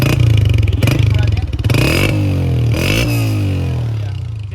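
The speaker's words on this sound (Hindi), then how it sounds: "125 का जीनियन साउंड है इसका भाई" A 2023-model 125cc motorcycle at a used bike market in Karachi revs close by, its engine note climbing and dropping through several loud throttle blips with mechanical clatter.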